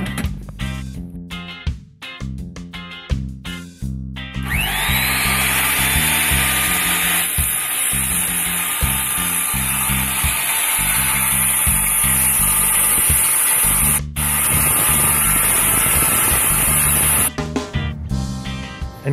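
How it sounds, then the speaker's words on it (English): A power saw set to a 10 degree bevel cuts through a wooden mantel piece: a few clicks first, then a loud sustained whine for about twelve seconds that stops abruptly, with no talking. "we're just going to set our saw to a 10 degree bevel"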